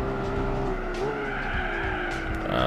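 Tires skid and squeal under late, hard braking in the Gran Turismo 4 racing game, a sustained screech over a steady engine drone, loud and continuous with no voices.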